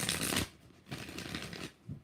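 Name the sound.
tarot cards being shuffled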